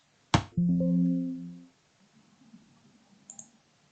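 A single sharp mouse click rings out near the microphone, followed by a short sustained tone and faint quiet shuffling, as a user works in Primavera P6 software.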